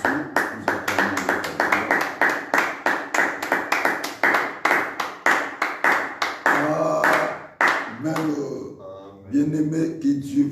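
A church congregation claps in quick, steady rhythm to acclaim Jesus at a midday prayer service. The loud, even claps run together for several seconds, then give way to voices.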